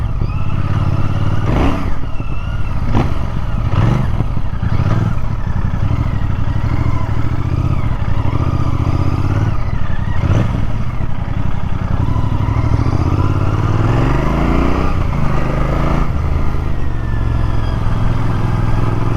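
Royal Enfield Interceptor Bear 650 motorcycle being ridden, its engine a steady loud mid-pitched drone throughout with wind rush and occasional clattering bumps, no voices.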